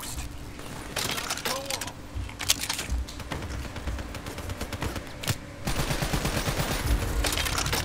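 Light machine gun in Call of Duty: Black Ops III firing in rapid repeated bursts, loud and close, with gameplay clatter and a player talking over the shots.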